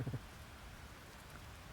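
Steady soft rain falls in the farming life-sim video game Fields of Mistria, a faint, even hiss with a few low thumps at the very start and no voices.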